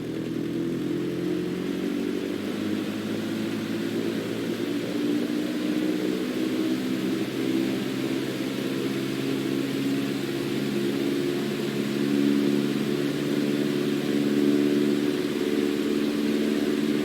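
A flight simulator video game plays a continuous droning airplane engine with steady low harmonic tones and an airy hiss, holding at a constant level and swelling slightly near the end, without speech.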